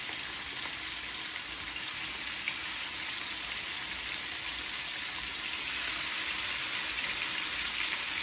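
Chicken sears in hot oil in a pan, giving a steady, dense sizzle and crackle that stays close and even throughout with no talk.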